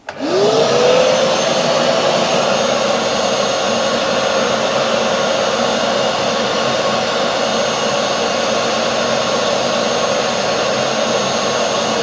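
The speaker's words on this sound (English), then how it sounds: "if I just switch the vacuum cleaner on again" A vacuum cleaner motor whines up from a start and then runs at a steady, loud, droning pitch with no break.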